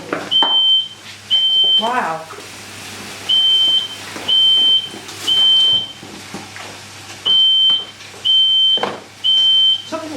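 Kitchen smoke alarm beeping in a steady pattern of loud, high, evenly spaced pulses, about eight in ten seconds, while people talk and exclaim close by during breakfast cooking.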